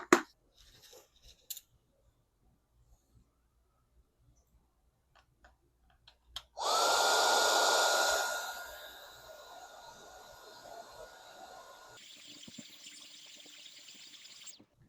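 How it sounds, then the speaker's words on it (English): A heat gun shrinking a solder sleeve onto wires on a Coleman mini bike switches on with a loud steady blowing roar for about two seconds, then settles to a quieter sustained hiss, after a few faint clicks. "And then, of course, you'll need a heat gun"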